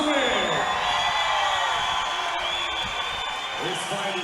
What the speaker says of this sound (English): Oh, the crowd is erupting.